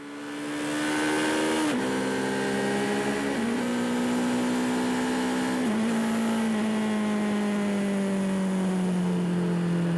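A Kawasaki KLE500 SE parallel-twin motorcycle accelerates hard in third gear, its loud, buzzing engine note climbing steadily with brief dips at throttle changes and a rushing wind roar, with no talking.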